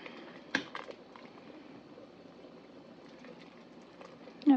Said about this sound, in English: And then I'm gonna just let it boil for a few minutes.